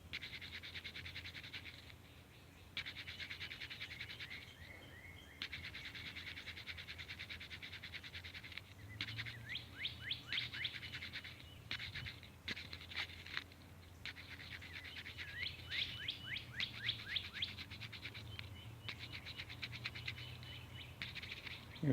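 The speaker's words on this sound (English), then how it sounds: "Just listen to the birds and just kind of bounce in between what they're saying" Several birds chirp and tweet outdoors near a house, bursts of quick repeated calls coming in clusters over a quiet, faint background, with occasional light pecking or scratching sounds.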